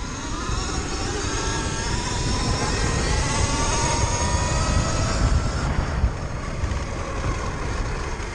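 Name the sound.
Sur-Ron Light Bee 72V electric dirt bike accelerating under throttle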